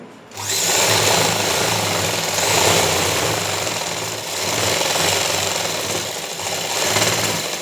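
A sewing machine stitches a seam on a straight pant, running as a loud, fast mechanical chatter that holds steady for several seconds with slight surges and no talking over it.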